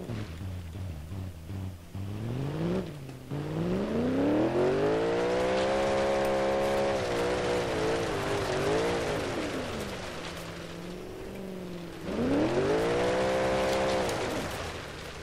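A car engine in BeamNG.drive, sounding like a Camaro, revs up and down in smooth, rising and falling whines, easing off briefly before climbing hard again, steady and close.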